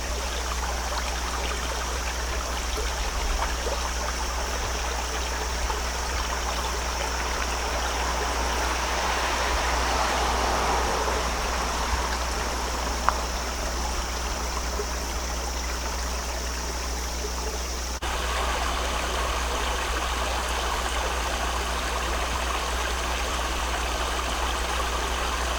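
A small stream flows steadily beside a hiking trail in Red River Gorge, a continuous soft rushing trickle with no break, nearby and moderately quiet.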